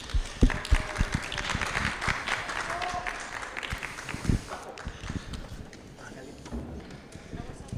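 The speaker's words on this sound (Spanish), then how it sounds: "le pedimos un aplauso" Audience applause greeting Spanish novelist José Ovejero at a live literary talk, a busy patter of clapping with a few sharper claps, sustained under a speaking voice.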